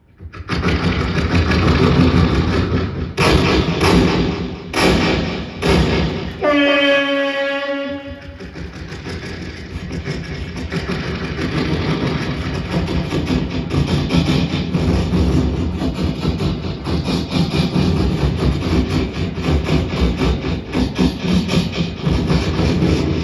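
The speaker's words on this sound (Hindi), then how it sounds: "रेलवे ट्रैक पे इंजन की स्पीड अब डाउन में है, तब खींचेगा कैसे" A railway locomotive pulling a train on the track near Bisauli, Budaun, rumbles loudly, with choppy surges early on and a short horn-like tone midway, then settles into a steady, continuous engine drone.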